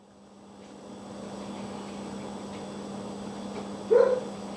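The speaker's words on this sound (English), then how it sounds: "Kate, enough with the barking!" A single short dog bark rings out near the end over steady background hum, fairly close and moderately loud.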